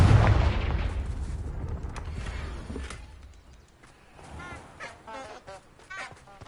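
A Confringo fire-blast spell in a Harry Potter wizard video game booms loudly at the start, then fades into quieter game effects and scattered crackles, with some voice-like sounds mixed in.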